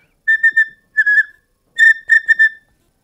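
A Pueblo bone whistle used to call in birds sounds in three bursts of short, clear, high tones, two or three quick chirping notes per burst, close and alone with no talking.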